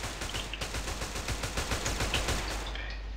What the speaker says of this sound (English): He's shooting through the wall right now.